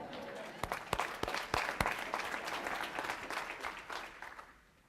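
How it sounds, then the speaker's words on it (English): An audience at a nonprofit board leadership talk gives a round of applause: a moderate, steady clapping crowd heard from a distance, thinning and fading out toward the end. "Stand up and give this man a round of applause."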